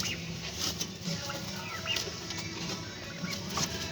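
A pigeon flaps its wings close by in a short flurry of soft, papery beats, with faint background noise and no talk.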